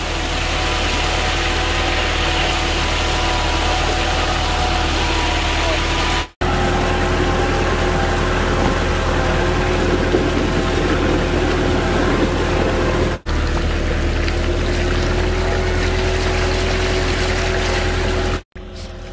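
A steady, droning engine runs continuously with a low rumbling throb, loud and close, with a few brief dropouts along the way.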